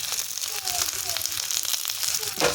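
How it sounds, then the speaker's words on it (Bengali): Turmeric powder and salt fry in a pan with a steady, close sizzle and a few soft stirring scrapes, while faint voices can be heard in the background. "এখন আমি এটাকে ভালো করে ভেজে নেব নেড়ে চেড়ে।"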